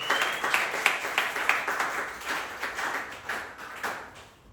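Congregation applauding for the Lord at a Tuesday church service: a continuous patter of many hands clapping, moderately quiet and even, easing slightly at the end.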